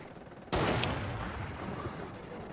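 A single loud gunshot blast in Fortnite, sudden and close, followed by a long fading echo and rumble.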